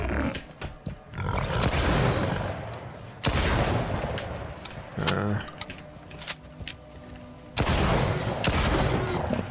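Gunfire in the video game S.T.A.L.K.E.R. 2 comes as several sharp, loud shots and bursts separated by short gaps, with a player talking between them.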